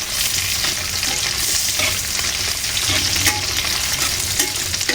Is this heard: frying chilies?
yes